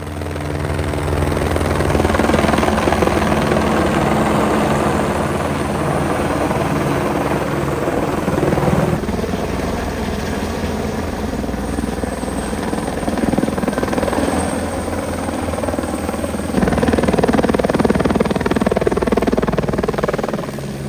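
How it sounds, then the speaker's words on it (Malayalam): A helicopter carrying supplies up Mount Titlis in Switzerland, its loud, steady rotor drone throughout, close by, with slight swells in intensity and no talking. "നേരത്തെ കണ്ട ഹെലികോപ്റ്റർ വീണ്ടും സാധനങ്ങളുമായി മുകളിലേക്ക് എത്തിയിട്ടുണ്ട്"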